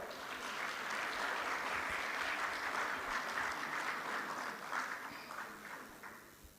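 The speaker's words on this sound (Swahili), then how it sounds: "makofi kwao" An audience at a public ceremony claps steadily and fairly loudly for several seconds, then the applause slowly fades.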